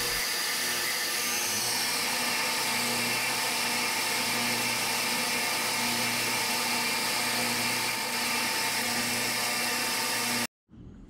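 Steady machining of a relief groove for a 3/8-24 thread, a loud continuous whirring grind with a constant tone that runs unbroken and stops abruptly near the end.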